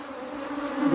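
Honey bees buzz steadily around a hive with wet honey supers, a dense insect drone holding level through the second and swelling slightly louder near the end.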